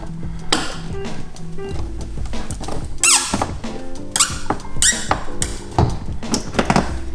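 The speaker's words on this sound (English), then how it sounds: "And the door cover comes off." A BMW door trim panel being pried loose by hand, with a run of sharp plastic squeaks and creaks mixed with clicks and rattles of clips releasing, close and fairly loud, no talking.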